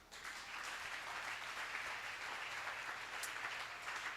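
A church congregation claps together in praise, a dense, steady wash of applause that holds for several seconds without any speech.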